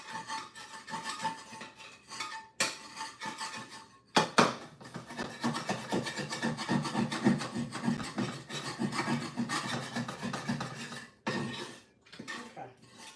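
Browned bits from cooking Vietnamese banh mi fillings scraped off a pan with a utensil, a steady rasping scrape broken by a few short metallic knocks and pauses.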